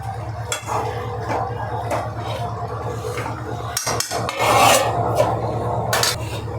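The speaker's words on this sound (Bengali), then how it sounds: "ভালো করে একটু আমি নেড়ে নিচ্ছি" A spatula stirs chicken in a pan, giving repeated scraping and rubbing strokes over a steady low hum, with a few sharper clanks near the middle.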